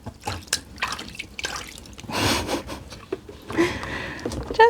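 Water poured over a newly repotted plant, heard as a close, steady splashing and trickling with drips into wet potting mix, with soft rubbing and handling noises and no talking.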